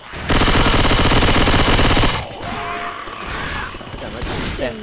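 Shotgun fire in the zombie shooter Left 4 Dead, a dense, loud burst of blasts lasting about two seconds, then dropping to lower in-game noise and clatter.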